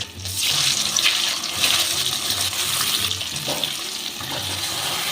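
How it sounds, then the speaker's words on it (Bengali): Potatoes drop into well-heated oil sprinkled with a little salt and fry with a loud, dense, bubbling hiss, close and continuous, with a low rhythmic rumble beneath. "দিয়ে এই আলুগুলো আমি ছেড়ে দিচ্ছি এটাকে আমি লাল করে ভেজে নেব"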